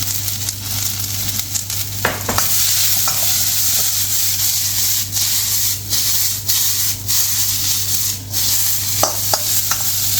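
Peas and mixed vegetables stir-fried in a pan for Chinese spicy vegetarian stir-fry rice, giving a steady loud sizzle and hiss with a few scraping stirs and clinks throughout, and no talking.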